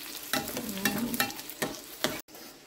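Dried red chillies frying for chutney, a steady sizzle under repeated scraping stir strokes of a spoon in the pan, close and fairly loud.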